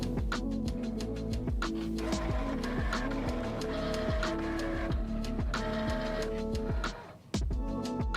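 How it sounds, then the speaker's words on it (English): A MOMENTO cutting machine cutting quilting shapes, with rapid mechanical whirring, repeated motor pitch sweeps and clicking carriage movements that run steadily before a brief dip near the end. "Now that the machine has finished my cut"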